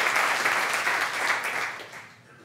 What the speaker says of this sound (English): we can clap about that